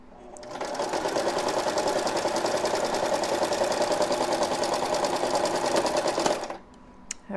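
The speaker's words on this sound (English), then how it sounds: "I'm on a straight stitch, and I'm going to just use a regular stitch, and I am going to back stitch this" A sewing machine running a straight back stitch on fabric pumpkins gives a loud, close, steady mechanical whir for about six seconds, then stops abruptly.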